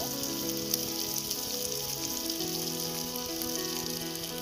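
Ginger garlic paste and spices fry in a pan for chicken biryani, giving a steady, close sizzle with crackly spitting that runs evenly throughout, with no voices.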